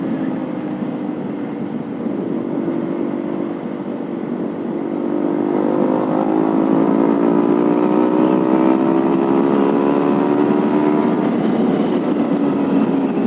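A Honda CB150R motorcycle rides past under steady wind roar, its engine note rising in pitch with rising harmonics as it draws near and grows louder, with no talk.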